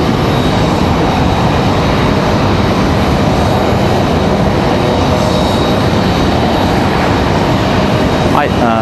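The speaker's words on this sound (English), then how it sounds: "Air France coming in on that Dreamliner again." An Air France Boeing 787 Dreamliner arriving at Raleigh-Durham airport gives a loud, steady jet roar that fills the whole stretch without letup, with a rising whine near the end.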